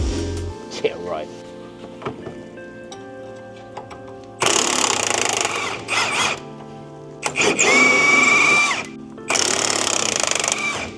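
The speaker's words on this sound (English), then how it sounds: "Ooh, air hammer time now." A pneumatic air hammer chatters against the suspension of a 2006 Acura TSX 6MT in three loud, close bursts, following a quieter stretch of workshop noise with a voice speaking.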